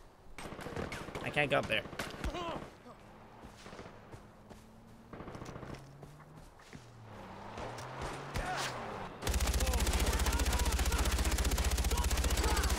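Gunfire aimed at the player in Far Cry 4, scattered shots mixed with a voice speaking and game sounds, ending in a loud, sustained burst of firing.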